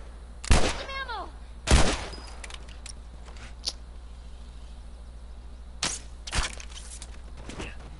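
Gunshots from The Last of Us Remastered, a few loud sharp blasts spaced apart with quieter shots later, over a steady game background hum.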